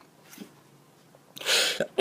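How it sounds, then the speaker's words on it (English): A single close, loud sneeze bursts out after a quiet stretch of soft breathing, followed by a brief sharp catch at the end. "Oh, it's just crazy sneezing all the time."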